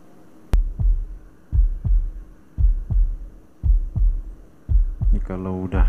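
A heavy heartbeat pounds in the dark action game Grimvalor: about six loud, close, low double thumps at a steady rhythm, with a brief tonal sound rising at the very end.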